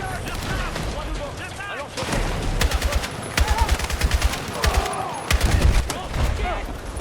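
Gunfire and explosions in the video game Battlefield 6 during a campaign battle at Gibraltar: dense, rapid automatic fire with sharp bursts and heavy low booms rolling over each other, loud and continuous, with voices mixed in.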